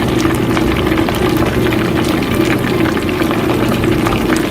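Chicken karaage bubbling in hot oil for its second, high-heat fry to crisp the outside, a loud, dense, continuous crackling boil close by with no pauses.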